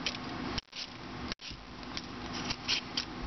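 Potatoes being peeled with a handheld vegetable peeler for potato soup, giving quick, close scraping strokes in steady succession with two brief pauses, no one talking.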